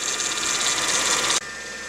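A 2004 Mercedes C320 4Matic engine idles steadily with a constant mechanical hum and a faint pulley whine, continuous and close, cutting to a quieter tone near the end.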